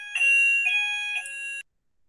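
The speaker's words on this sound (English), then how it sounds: "It's just a regular alarm that's ringing." Electronic alarm ringing in short repeated bursts, a bright steady electronic tone pulsing three times before cutting off into silence.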